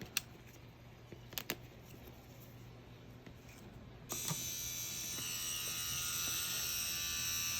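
A rotary tattoo pen, an Ambition Ninja wireless or EZ NANO model, runs with a steady close electric buzz that jumps louder and brighter halfway through and holds there, with a few sharp clicks early on.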